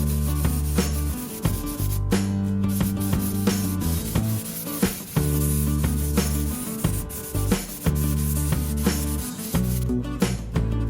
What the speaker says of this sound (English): We're gonna spray it at about 35 PSI.